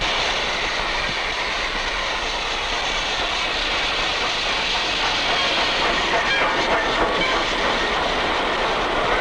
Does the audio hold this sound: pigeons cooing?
no